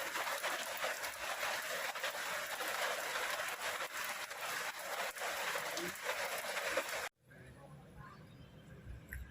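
Rain water streams off a roof edge during rainfall in a steady, dense hiss onto caladium plants, then cuts off abruptly, leaving quieter background sound.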